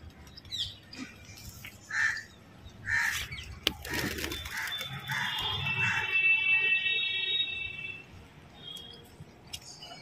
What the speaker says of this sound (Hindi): कौवा आ गया